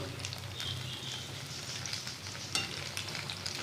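Taro fritters frying in hot oil in a pan, a soft continuous crackling sizzle at low volume with a faint clink or two as the pieces are turned over.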